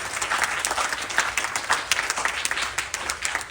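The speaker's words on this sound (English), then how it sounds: "Please give him a big round of applause." Audience applause at a Ganesh Chaturthi Utsav celebration honoring the officiating pandit: dense, steady clapping from a crowd, loud and sustained with crisp individual claps peaking throughout, no voices over it.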